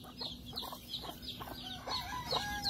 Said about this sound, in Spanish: Ese gallinito es el papá